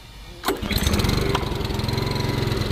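A Honda 7HP power tiller fitted with a 150cc petrol engine bursts into life after a quiet start, then settles into a steady, rapid, rhythmic putter close by, with no one speaking.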